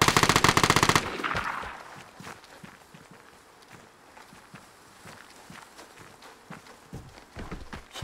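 Automatic gunfire in the shooter game Vigor opens with a loud rapid burst. Shuffling in-game footsteps follow, with a few fainter distant shots scattered through the rest.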